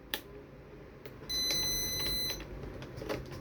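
A home alarm system with a motion detector being armed gives short electronic beeps and a steady tone lasting about a second, heard faintly in a quiet room alongside a few clicks.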